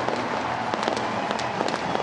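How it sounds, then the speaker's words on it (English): Stadium fireworks crackle and pop in a dense, continuous burst after a home run at a Minnesota Twins versus Chicago White Sox baseball game, loud and sustained, with crowd noise blended underneath. "How about him setting off the fireworks?"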